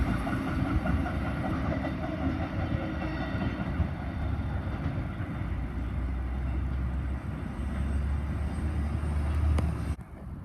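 A train bound for Brisbane passes on the railway at Coniston, a sustained loud rumble with faint clattering wheels that holds steady before cutting off abruptly near the end.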